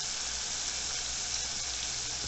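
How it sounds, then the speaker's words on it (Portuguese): Small lambari fish fry in hot oil, giving a steady, close, crackling sizzle with no pauses. "Olha aqui, tá fritando mais."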